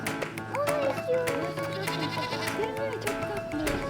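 Young goat kids bleat in short rising and falling calls, several overlapping across the clip, close by with people talking over them.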